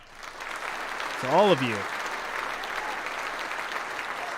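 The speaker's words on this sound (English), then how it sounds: "Big round of applause to all of you for being here." An audience claps in a dense, steady round of applause that fills the whole stretch, with a brief spoken phrase rising over it near the middle.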